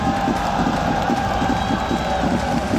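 A packed arena crowd cheers and roars continuously at the final day of a Rocket League esports event at EWC, loud and dense, with a rhythmic chant-like pulse running through the noise.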